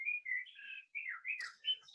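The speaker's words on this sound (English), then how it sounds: "thank you to your bird, actually, for really serenading us through this" A pet bird chirps and warbles in a quick run of bright, whistling calls with short pauses between phrases, fairly faint and with no talking over it.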